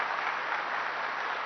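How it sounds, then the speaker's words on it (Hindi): A gathered spiritual congregation claps together in a steady, dense wash of applause, moderately loud and continuous, with no talk over it. "अपने लिए खुशी की ताली बजाओ"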